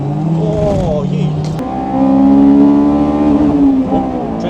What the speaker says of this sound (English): that's the only thing, where it's so high revving, you've got to be so careful about the gears